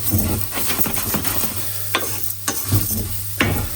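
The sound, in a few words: risotto rice toasting in pan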